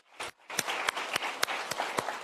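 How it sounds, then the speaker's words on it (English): Sparse applause at an awards ceremony for a national patent application drafting competition: a small number of distinct claps spaced out over a couple of seconds, fairly faint. "How about another round of applause for our acting Undersecretary and Director, Coke Stewart?"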